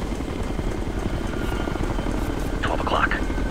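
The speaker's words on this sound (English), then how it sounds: "12 o'clock. Got an enemy chopper here." Enemy helicopter flying overhead in the Ghost Recon video game, a steady loud rotor drone filling the whole stretch, with a brief radio-style voice rising over it near the end.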